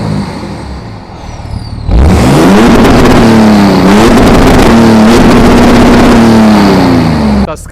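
A BMW diesel engine with a deep idle tune starts after a short quiet lead-in, then revs loudly and steadily at close range, its deep rumbling tone rising and falling in repeated swells.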